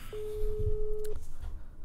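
A single sustained electronic phone tone in a dating simulator video game, holding steady for about a second before cutting off, with a low murmur of room noise underneath.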